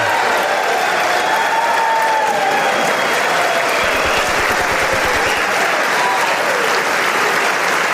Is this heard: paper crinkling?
no